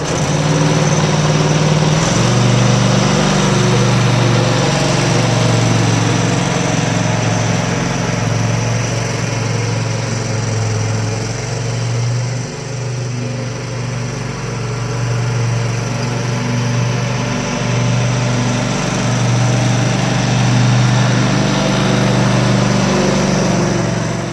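A zero-turn lawn mower drives up a grassy slope, its engine droning steadily and loudly throughout, with a low rumbling hum that dips slightly midway and then returns to full strength.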